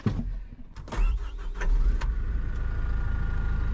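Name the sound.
Hyundai HD130 dozer engine running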